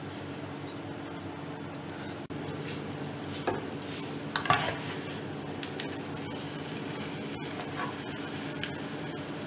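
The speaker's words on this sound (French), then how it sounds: "je le fais cuire à feu doux" Murtabak stuffed with cheese cooking gently in a pan on low heat: a faint, steady sizzle with occasional soft scraping and stirring touches, close and quiet throughout.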